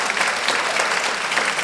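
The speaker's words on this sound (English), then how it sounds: "I would like to give a nice round of applause to Mr. Randall Catron for this wonderful facility" Brief burst of steady, dense applause from an audience on Beale Street honoring Randall Catron, continuous clapping throughout at even loudness, with no voices standing out.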